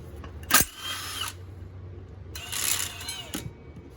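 A power tool whirs in two short bursts as it drives out the final bolt on a drift car project, a near, fairly quiet buzz separated by a pause with faint handling noise.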